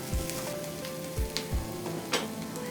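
Onions and green chillies sauté in a pan for a potato-skin topping, with a close, even sizzle punctuated by a few dull spatula knocks.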